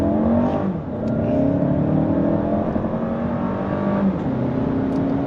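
A 2023 Toyota Crown with its hybrid max powertrain accelerates hard from a stop, a steady rising engine and motor whir building in pitch, moderately loud and heard from inside.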